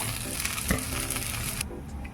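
A potato-stuffed folded snack fries in hot oil in a home kitchen, a loud, steady close sizzle with a stirring scrape partway through before the crackle drops lower.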